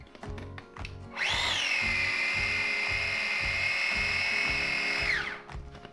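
A food processor finely chopping cauliflower for nachos starts with a few short pulses, then runs in one sustained high whirring buzz for about four seconds before winding down, with a dull rhythmic thumping beneath.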